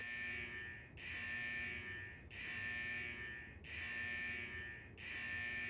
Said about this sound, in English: Is that the central alarm of the vault?